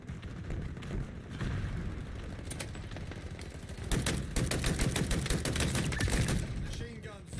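Machine gun fire in Halo Infinite Big Team Battle rattles in dense rapid bursts, growing louder and heavier midway, with game action underneath.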